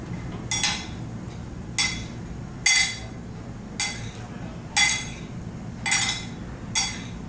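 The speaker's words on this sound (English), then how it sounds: "Mix everything." A utensil clinks against a bowl while green beans are tossed with mushrooms and tomato. About seven bright, evenly spaced clinks sound up close over a low kitchen hum.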